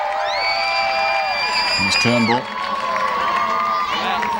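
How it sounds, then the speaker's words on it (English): Crowds packed into the streets of Perth cheer and whistle at an Olympic parade, a loud, steady roar heard under someone commentator's voice. "And the crowd have turned out en masse in the streets of Perth."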